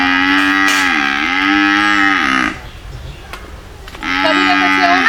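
A buffalo moos loudly and close by in two long, drawn-out calls separated by a short quiet gap filled with faint background noise.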